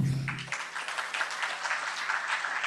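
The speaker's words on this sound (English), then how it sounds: "Yes, clap." A crowd of new undergraduates clapping at a university orientation, a steady, moderately loud patter of applause after a brief low hum at the start.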